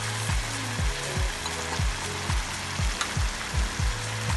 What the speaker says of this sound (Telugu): పచ్చివాసన పోయేదాకా ఫ్రై చేసుకుందాం.